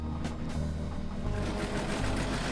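A sewing machine stitches fabric for a tank top alteration, a continuous close whirring hum with rapid rhythmic needle pulses, slightly shifting in pitch midway.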